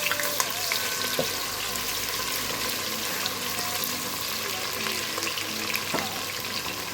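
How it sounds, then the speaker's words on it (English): Chopped onions frying in a pot for smoky jollof rice, a dense continuous sizzle with occasional clicks of stirring, steady and close throughout. "I will allow the onions to fry a little dry."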